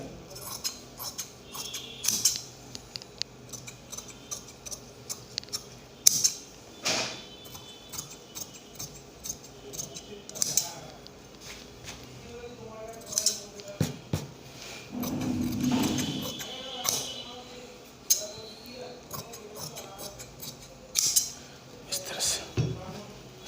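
Scissors cut blouse fabric for a double katori blouse, giving a series of sharp, irregularly spaced snips and clicks close by, with brief rustles of cloth between the cuts.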